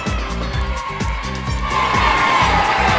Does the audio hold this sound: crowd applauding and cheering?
yes